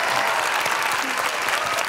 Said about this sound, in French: je voudrais qu'on l'applaudisse et qu'on l'accueille